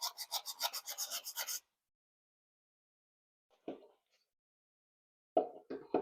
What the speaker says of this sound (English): I wanted to clean the magnets in the flywheel before we do that. So I'm going to just take some sandpaper